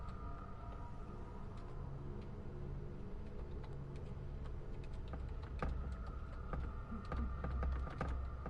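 Keys clatter on a computer keyboard in quick irregular bursts of clicks, fairly quiet against a steady background hum, with no voices.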